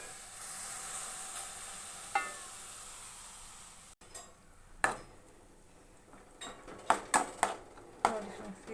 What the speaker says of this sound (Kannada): ಇನ್ನೂ ಸ್ವಲ್ಪ ಹಾಲು ಹಾಕೋತಾ ಇದ್ದೀನಿ